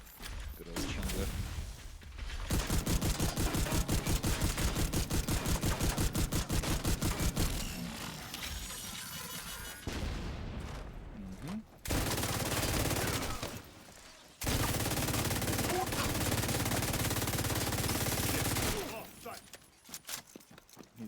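Sustained machine gun fire in The Division 2 rattles in long rapid bursts with short pauses between, loud and close, while a player talks over parts of it.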